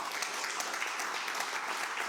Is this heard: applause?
yes